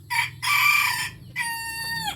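A bantam hen and red junglefowl (labuyo) chickens kept in a rural yard, with a rooster crowing in two loud, close bursts separated by a short pause, a low background murmur underneath.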